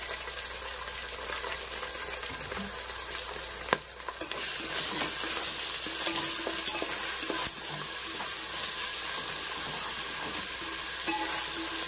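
Masala sizzling and frying steadily in a pan for vegetable biryani, a constant bright hiss with a few stirring clinks and scrapes, close and even throughout.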